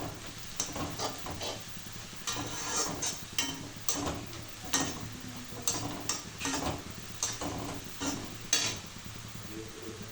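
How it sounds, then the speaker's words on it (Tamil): Onions frying in a pan until golden, a continuous sizzle broken by frequent scraping and clinking stir strokes, close by, with no talking. "நல்லா பொரிஞ்சு வரணும் வெங்காயம்"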